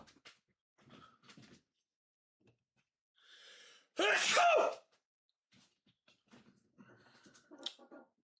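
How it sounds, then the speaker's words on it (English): A man's loud sneeze bursts out mid-clip after quiet chatter, standing well above the soft voices and small noises around it. "I gotta sneeze so bad."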